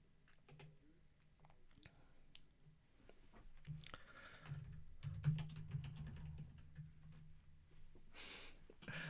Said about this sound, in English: I typed something in the chat window now